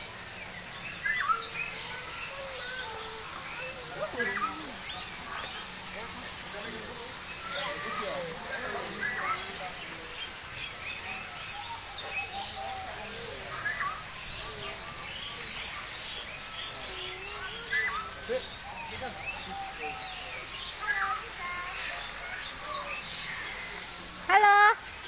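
Starlings (burung jalak) calling outdoors, many scattered chirps and chattering calls from a sizable flock at moderate distance over a constant hissing outdoor background.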